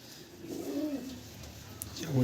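An Andhra male pigeon gives a low, soft cooing call, one drawn-out coo near the start and another toward the end, close by and faint, with a voice faintly present.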